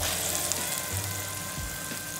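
A ground paste of coconut, onion and coriander sizzles steadily in hot oil in a pan, a close, even frying hiss with faint stirring, no voices.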